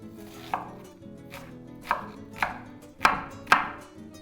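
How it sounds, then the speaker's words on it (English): A knife chops through an onion on a cutting board in five distinct, sharp strikes spaced about half a second apart, close and clear with no talking. "we're going to be dicing the onion nice and finely"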